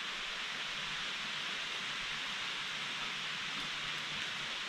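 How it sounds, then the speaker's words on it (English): Rain falls on a forest hiking trail during a brief pop-up thunderstorm, a steady even hiss of drops with no voices and no pauses. "And it is raining."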